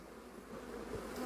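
Angry honey bees swarm around an opened beehive, a steady, fairly faint buzzing hum that continues throughout, with individual bees passing close by now and then.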